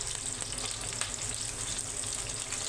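Eggplant slices frying in a pan over lowered heat, giving a steady, close, even sizzle with a constant crackle and no voices.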